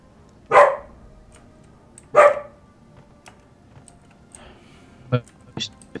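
Two loud dog barks in the video game ArcheAge, spaced well apart, followed by a few fainter clicks and short sounds, with people talking around them.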